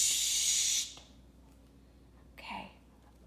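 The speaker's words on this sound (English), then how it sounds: "now all we need to do is just go ahead and spray your hair." A short, close burst of hair spray hisses onto a toy doll's hair for under a second, followed by quiet and a faint rustle.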